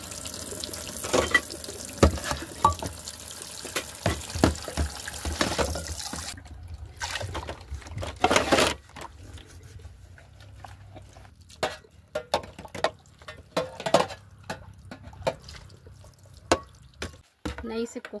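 Water runs from a tap into a sink in a public washroom with many sinks, a steady broadband rush with clattering splashes and drips, loud at first and then thinning to intermittent trickles, with a voice talking over it.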